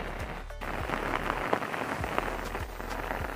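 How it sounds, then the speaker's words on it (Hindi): Heavy, continuous rain pouring steadily around a foggy village, a dense, loud wash of drops that never lets up, with no talking. "बारिश का तो पूछिए मत, कुछ सेकंड के लिए भी नहीं रुक पा रही है ये बारिश।"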